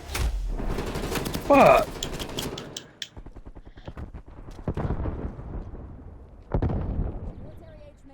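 Video game gunfire: bursts of rapid automatic shots and single cracks, loud and close, with someone talking and swearing over and between the shots.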